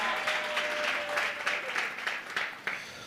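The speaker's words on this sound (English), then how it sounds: "Big round of applause for our pitch winner." A workshop audience gives a round of applause for a pitch winner at a business event, a light, fairly soft patter of clapping with a faint steady tone running through the first half.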